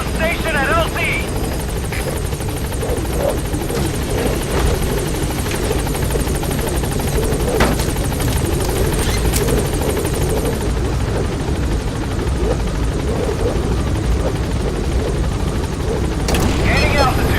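The Pequod helicopter in Metal Gear Solid V: The Phantom Pain on PS5 holds a loud, steady rotor and engine drone that runs unbroken throughout.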